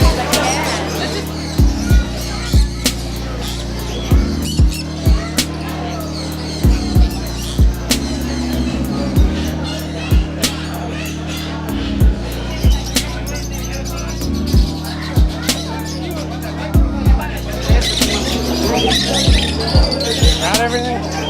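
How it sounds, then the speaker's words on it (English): Many birds squawk in sharp, scattered bursts at an indoor bird show, heard through steady crowd chatter and a low constant hum, with people talking nearby. "Birds everywhere. They're everywhere."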